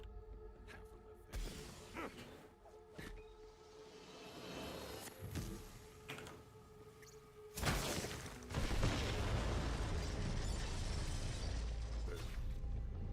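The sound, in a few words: explosion echoing through a forest in a video game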